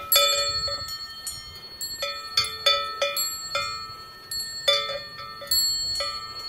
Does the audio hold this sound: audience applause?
no